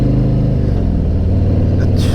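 A Honda motorcycle rides on a highway in strong wind past semi-trucks, a loud, steady low engine rumble mixed with heavy wind roar close up, and a brief hiss near the end.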